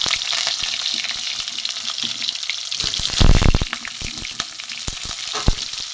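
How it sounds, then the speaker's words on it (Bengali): Pointed gourd (potol) frying in hot oil with dried red chillies, a loud close crackling sizzle with stirring scrapes and a brief burst of heavier spattering midway, no voices. "প্রথমে আমি এই পটলগুলো একটু ভেজে নেবো"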